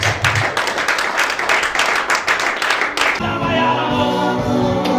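A church congregation claps in quick, dense rhythm during worship, loud and close, then the clapping gives way to sustained music and voices.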